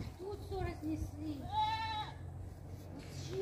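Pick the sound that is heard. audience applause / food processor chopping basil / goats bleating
goats bleating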